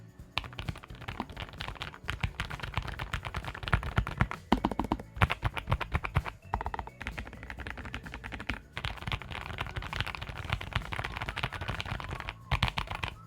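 Someone types steadily on a low-profile mechanical keyboard with an all-white design and a volume roller, producing a dense, continuous clatter of key clicks with brief pauses and no talking.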